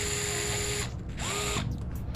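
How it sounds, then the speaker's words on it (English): Screws are backed off a Traxxas XRT RC truck with a small electric driver, giving a steady close whine that stops and restarts in short bursts over a couple of seconds. "I'm gonna just back off the new screws."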